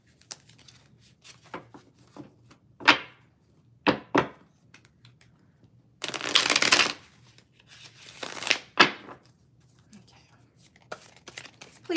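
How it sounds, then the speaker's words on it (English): Tarot cards riffled and shuffled in short bursts, crisp papery flutters spaced apart, with a person talking softly between them. "Now I'm going to shuffle it again because my cards didn't all come up."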